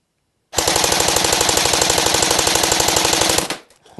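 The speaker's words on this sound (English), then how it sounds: "tear it right out with that full auto fire" A Cybergun AK47 Kalashnikov airsoft electric gun fires a single full-auto burst of about three seconds, a fast, even mechanical rattle that starts abruptly after silence and stops cleanly, loud and close.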